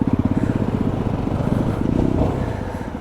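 A Yamaha R25 motorcycle engine throbbing close by in Aksaray, rapid pulsing beats at first, then the throttle swells into a louder, rising rev before easing off.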